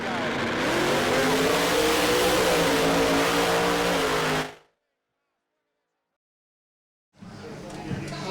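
A drag racing car roars hard down the strip with its front wheels lifting, a loud sustained engine howl with rising harmonics that cuts to silence midway before crowd and voices return.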